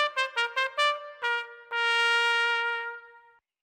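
The unicorn song melody from Little Einsteins plays as a bright, bell-like tune: several short, separate notes, then one long sustained tone that fades out, with no voices.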